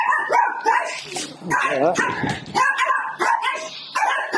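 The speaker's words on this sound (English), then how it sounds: "Bunch of boarding dogs back here, and some little dogs, and maybe some puppies too." Boarding dogs at an animal rescue kennel bark repeatedly, near and loud, with yips and whimpers in a busy overlapping chorus, and a person says a word briefly.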